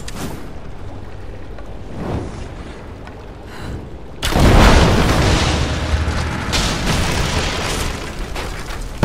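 A Greek fire vessel explodes in Rise of the Tomb Raider: after quieter rumbling and thuds, a loud deep boom erupts and rolls into a sustained roaring, crackling blast that lingers for seconds.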